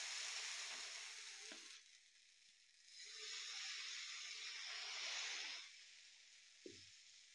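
Rava dosa batter hissing on a hot pan, a broad steady sizzle that swells as fresh batter spreads, with a few light utensil taps, fairly close and alone without talk.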